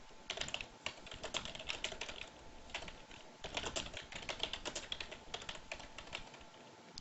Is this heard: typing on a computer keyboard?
yes